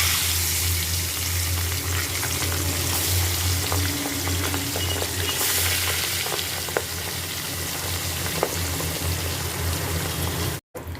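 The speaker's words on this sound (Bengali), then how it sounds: "এবার মাছটাকে ভেজে নেব।" Fish fried in oil for a village-style Bengali fish dish: a steady, dense sizzle and crackle of hot oil runs close and loud, with a low hum beneath it and no talking, and it cuts off abruptly near the end.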